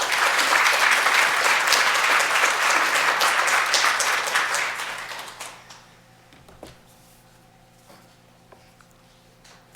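An audience claps loudly to welcome speaker Jennifer Drake before an evening talk on low impact development techniques. The sustained applause fills the first five seconds, then fades out to a quiet room.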